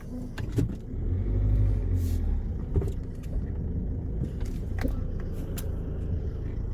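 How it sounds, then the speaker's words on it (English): A car passes on a road, heard from inside a Mercedes Vito van: a loud low rumble that swells and fades over several seconds, with a few clicks and knocks nearby. "Oop, car coming."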